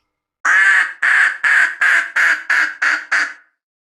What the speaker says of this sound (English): The duck goes quack,